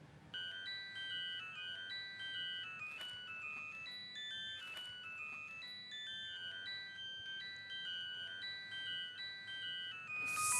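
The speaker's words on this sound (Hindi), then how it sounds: "रिंग जा रही है।" Phone ringtone plays a repeating electronic melody, steady and fairly quiet, ringing alone with no talk for about ten seconds.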